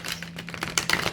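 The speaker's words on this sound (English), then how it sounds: "It's like you could barely shuffle this deck." A stiff Modern Witch Tarot card deck being shuffled, with a rapid run of crisp card clicks and riffles close by across a little over a second, alone with no talk.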